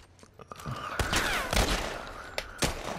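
Gunfire rings out in a tense The Last of Us firefight: a few sharp shots land near and among scattered impacts, with a whining tone running under the bursts.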